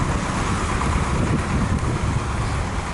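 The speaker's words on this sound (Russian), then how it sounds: "Ну, ветер сильный." Strong wind blows outdoors during a snowstorm, a loud, continuous broadband rush buffeting close to the microphone for several seconds with no talking.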